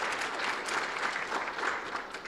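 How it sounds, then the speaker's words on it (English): A conference audience claps steadily for a panel discussion, a dense even patter of many hands, moderately distant and without speech on top. "So quick round of applause for the panelists."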